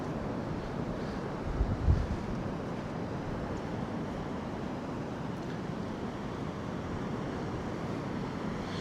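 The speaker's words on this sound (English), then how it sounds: "find some shelter from the wind" Strong wind blasts steadily across a beach microphone, a dense continuous roar with surf-like rumble underneath, loud and unbroken throughout with a brief gust bump early on.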